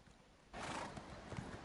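Horse hooves clopping in a quick galloping rhythm in The Elder Scrolls Online video game, a short, faint burst of game audio that starts abruptly partway through.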